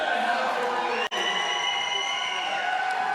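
Crowd of fans cheering and shouting steadily in the background at the 2018 Men's Roller Derby World Cup in Barcelona, supporting Team Poland against Denmark; a sustained, moderately loud wash of voices with one brief dropout.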